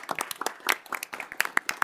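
Scattered, uneven clapping from a small audience at a village board of trustees meeting after a scouting troop's color guard presentation, quick sharp claps close by with no talk.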